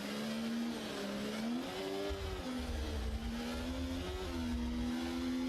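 Race car engine at full throttle in a Singapore night race, a sustained high whine that dips and climbs again as the car shifts through the gears, steady and fairly close with no voices.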